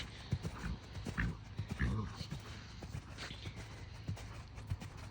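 A young dressage horse canters in a collected training session, hooves thudding softly in a loose rhythmic beat with some breathing, fairly quiet against steady arena background hum.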